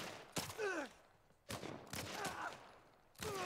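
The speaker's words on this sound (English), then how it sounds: "They were shooting at me." Gunfire in The Last of Us Part 1, three separate sharp bursts spread across the moment, each ringing out and fading before the next.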